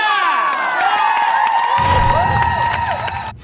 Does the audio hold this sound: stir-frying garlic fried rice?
no